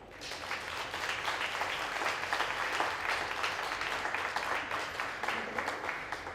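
A cabaret audience at a 2010 Télévie charity show in Orp-Le-Grand claps steadily in a dense, even wave of applause for a performer, sustained throughout without talk.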